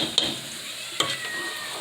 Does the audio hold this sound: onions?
yes